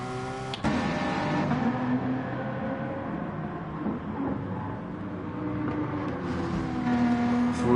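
Mid-engine Porsche race cars in GT Sport at the Nürburgring GP circuit, engines droning loudly and steadily with rising and falling tones as the cars run close together.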